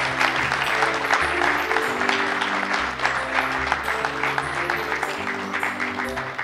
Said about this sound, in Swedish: Vi tackar er så jättemycket med en stor applåd.